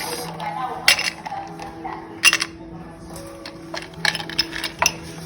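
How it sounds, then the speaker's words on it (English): Ice cubes clinking and knocking into a glass while making dalgona coffee, a few sharp bright clinks scattered among softer rattles and a low steady hum, with a person talking quietly between. "So we'll have the ice cubes."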